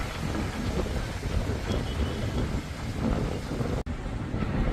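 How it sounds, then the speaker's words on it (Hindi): An outdoor thunderstorm with rain and strong wind makes a loud, rough roar of gusts buffeting the microphone, with a rumbling low end and a brief dropout near the end, and no voices. "आवाज़ सुनिए जरा आप तूफान की। सच में तूफान है।"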